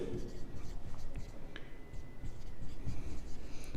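A pen or marker scratches across paper or a board while a math proof for a Class X real numbers exercise is written out, soft irregular strokes running beneath a person speaking throughout.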